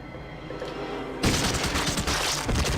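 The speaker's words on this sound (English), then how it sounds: "I should shoot this turret" Gunfire aimed at a turret in Fallout 2, a quiet stretch breaking into a dense burst of rapid shots that carries on loud and continuous to the end.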